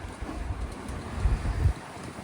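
Wind gusts buffet the microphone on a seaside harbour at Bridlington, a low, uneven rumble that swells and fades over a couple of seconds.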